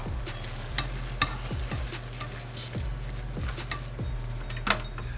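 Roasted corn and garlic confit being stirred in oil for a cornbread stuffing, a steady low sizzle with repeated scraping and clinking strokes of the spoon against the pan, close and alone.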